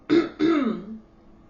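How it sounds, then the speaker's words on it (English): Two quick, throaty throat-clearing bursts close to the mic, the second trailing off into a low hum, then quiet. "I need to clear my throat."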